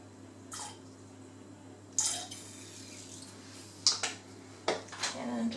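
Drops of blue raspberry Kool-Aid liquid go into a mixture, which is then stirred, giving a few scattered soft taps and clinks with quiet wet movement between them, close but faint.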